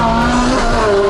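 A Lamborghini Gallardo 560-4 spins its tires, the loud tire squeal sliding in pitch over a steady roaring engine, close and continuous for just over a second.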